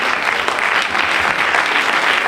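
Loud, dense audience applause for a musician and his band at an Italian awards evening, continuous even clapping throughout.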